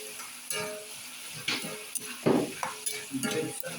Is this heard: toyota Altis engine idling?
no